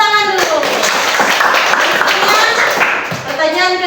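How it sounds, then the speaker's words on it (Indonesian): Pupils in a classroom clap for a classmate's correct answer, a short burst of hand claps mixed with children's chatter and a teacher's voice, loud and close. "Tepuk tangan dulu."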